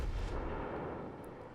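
Deep, heavy booming rumble of warship main-battery guns firing in World of Warships from the German battleship Kaiser, a sustained low roar that fades slowly, fairly quiet and without voices.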